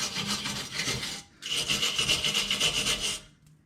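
Steady rasping scrape of a tool cleaning transmission mating surfaces on a 2006 Trailblazer SS, two long strokes close up with a brief pause between, harsh and gritty throughout.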